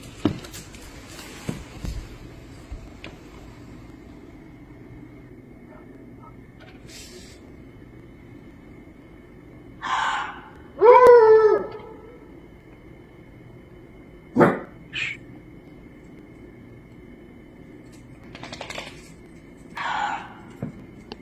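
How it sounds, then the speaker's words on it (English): A cougar calls outside at night with several loud, separate screams and yowls, one of them a long wavering cry. The calls are spaced apart by quiet stretches with faint background noise. "If you guessed cougar, puma, or mountain lion, you are correct."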